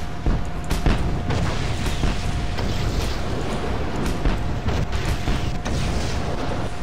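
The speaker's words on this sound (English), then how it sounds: "this is what an explosion looks like in this game" Explosion in the video game Just Cause 2, a dense, sustained rumbling blast with scattered booms and crackles running continuously at steady loudness, no voices over it.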